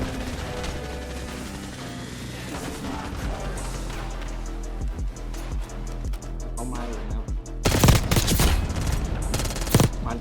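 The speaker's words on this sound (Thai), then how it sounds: "ไอ้กระโดดยิงลูกซอง อืมเอาพกยิงเลย" Shotgun and pistol gunfire in the video game Call of Duty: Black Ops 6, with sharp shots scattered over a dense mix of game noise and music, and a louder burst of blasts near the end, all under a player's talk.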